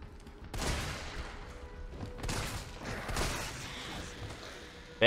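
A few gunshots fired in Resident Evil 3, the game's Magnum among them, each a sharp broadband burst with a rumbling tail, spaced about a second apart and fairly faint, with no talk over them.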